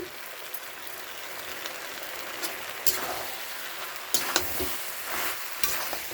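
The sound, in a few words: stirring and frying food in a pan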